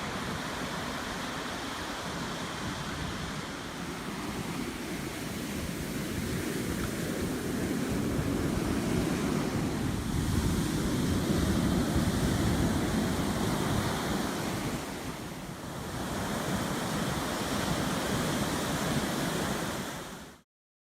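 Ocean waves crashing along a shore in a continuous heavy roar of surf, loud and near, swelling and easing slightly over about twenty seconds with no voices.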